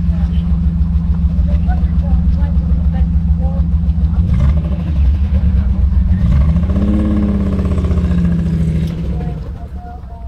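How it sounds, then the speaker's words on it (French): A vintage car's large V12 engine idles with a deep, steady rumble, then revs up twice with rising pitch before settling; people talk faintly in the background at a classic car event in Le Touquet. "Le beau bruit du V12"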